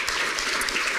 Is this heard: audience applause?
yes